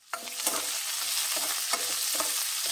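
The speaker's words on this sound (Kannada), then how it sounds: "ಇಲ್ಲಿ 2 ಈರುಳ್ಳಿ, 1 ಮೆಣಸಿನ್ಕಾಯಿ, ಸ್ವಲ್ಪ ಕರಿಬೇವು, ಇದನ್ನಿಷ್ಟು ಸೇರಿಸ್ಕೊಂಡು ಫ್ರೈ ಮಾಡ್ತಾಯಿದ್ದೀನಿ" Onions, chilli, curry leaves and urad dal frying in a pan, a continuous close sizzle broken by several scraping stirs, with no voices.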